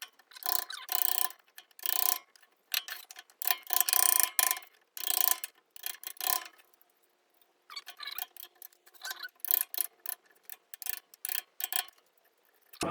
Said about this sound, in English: And just chisel away.